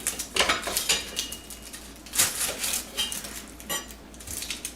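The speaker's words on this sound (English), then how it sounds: "I'm going to chop some onions right now" A knife chops onions on a board in uneven bursts of close taps and knocks mixed with clattering, at moderate loudness and with no talk.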